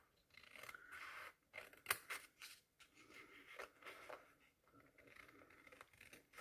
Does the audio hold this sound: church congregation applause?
no